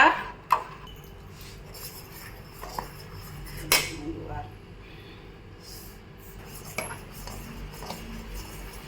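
A spoon stirs urad dal milk in a pot, giving a few soft scrapes and clinks against the metal over a quiet background.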